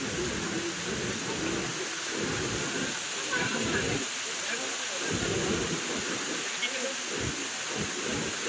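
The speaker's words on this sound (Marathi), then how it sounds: "पावसाने पार धमाकून घातलाय" Heavy rain falls at a temple along a trek to Bhimashankar, a constant hissing wash of rain with deep low rumbles beneath it, steady and enveloping, and no clear speech.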